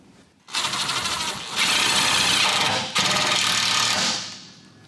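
A power drill whirs loudly in bursts while driving a tech screw during an LS swap fuel line install, the motor speed stepping up and briefly pausing before winding down after a few seconds, with no talking.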